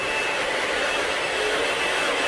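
A hair blow dryer is run over freshly cut hair at a barber shop, giving a loud, steady, unbroken whoosh with no break in the airflow.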